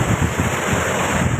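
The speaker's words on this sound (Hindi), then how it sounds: "समुद्र में ऊंची ऊंची लहरें उठ रही थी शाम तक, देर शाम तक" High sea waves rolling onto the Odisha coast ahead of a storm, a dense continuous roar of surf mixed with heavy wind buffeting, loud and unbroken throughout.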